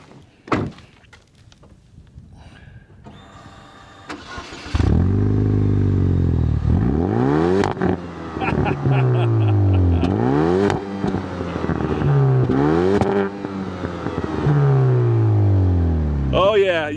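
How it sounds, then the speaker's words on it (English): A 2009 Chevy Cobalt SS cranks and fires up, then its engine revs repeatedly through the exhaust in loud rising and falling sweeps, with a door clunk and brief talk early on. "by far the best part of this car is the engine and the exhaust note"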